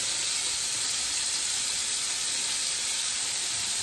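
Green and purple onions sizzle in a pan over medium heat, a loud, steady, close frying hiss that holds unbroken from start to finish.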